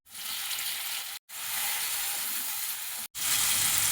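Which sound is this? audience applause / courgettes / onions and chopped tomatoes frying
onions and chopped tomatoes frying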